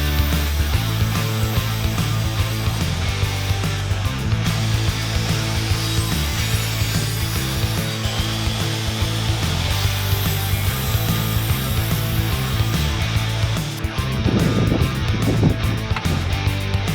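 Timber being sawn for a van subfloor grid, a steady rasping back-and-forth of a saw on wood that runs continuously at close range with a brief louder burst near the end.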